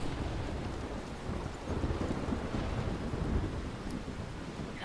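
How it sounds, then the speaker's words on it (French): A thunderstorm in the video game Life is Strange rolls on with heavy rain and gusting wind, a dense, continuous roar with low thunder rumbles swelling throughout. "Il y a les orages, de la pluie,"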